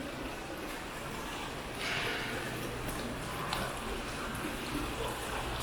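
An indoor mall fountain of chlorinated water, coins tossed in, at Moorestown Mall runs with a continuous broad rushing wash, steady and moderately close, with a faint hum of the space behind it.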